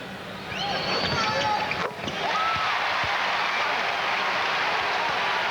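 Arena crowd noise at a 1994 NBA game, New York Knicks at Philadelphia 76ers: a dense, steady wash of cheering and clapping from a large crowd, rising in the first second and holding throughout.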